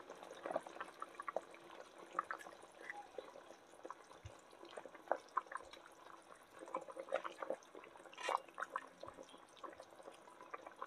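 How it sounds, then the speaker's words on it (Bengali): Hilsa fish slips into a simmering potato and eggplant curry, giving a faint, continuous bubbling and liquid gurgle with soft drips and small splashes throughout. "তো আগে মাছগুলো ছেড়ে দিলাম।"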